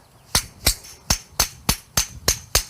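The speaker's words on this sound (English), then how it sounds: "I'll just work it with the hammer and dolly" Hammer and dolly strike bent car body sheet metal on a barn-find Jeep Wagoneer, eight sharp metallic clanks in a steady rhythm, close and loud with no talking.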